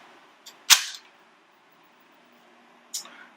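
An AR-15 rifle is dry-fired by pulling the trigger on an empty chamber. It gives a crisp, close metallic click, a fainter tick before it and a second softer click about two seconds later, in a quiet room.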